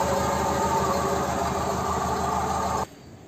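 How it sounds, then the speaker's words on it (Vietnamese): Petrol engine of a 2009 Chevrolet Captiva with manual gearbox, idling smoothly with a steady low hum and even rumble, close and fairly loud, cutting off abruptly near the end with no talk. "đây là tiếng động cơ đang hoạt động đây, khá là êm"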